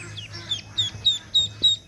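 Rapid high-pitched peeps from young ducklings repeat in a quick steady rhythm, about five close chirps in under two seconds, with low murmuring underneath.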